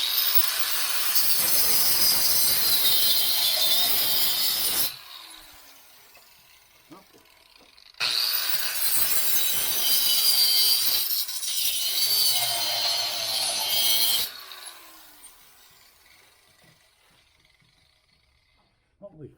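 Angle grinder cutting through the metal of a broken chair, two loud, harsh grinding runs of several seconds each, separated by quieter gaps with scattered clicks and handling noise.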